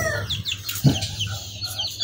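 Small fancy chicks and chickens cluck and chirp softly in a quiet, close setting, giving a few scattered calls with no talking.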